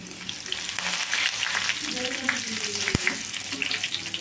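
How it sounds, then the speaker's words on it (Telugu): Cumin, dried red chilies, crushed garlic and curry leaves sizzle in hot oil as a tempering for Andhra tomato dal, a steady close-up frying crackle with faint stirring and no voices. "తాలింపు బాగా వేగాలండి"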